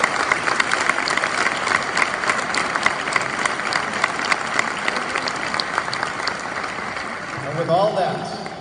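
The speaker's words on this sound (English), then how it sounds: "We should clap for that, right?" A graduation audience at a health sciences university ceremony gives steady, sustained applause that fills the whole stretch, with a brief swell of voices and cheering near the end.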